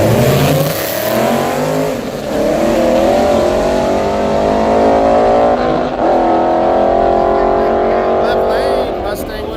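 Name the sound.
drag racing cars launching, Mustang and a 4-cylinder turbo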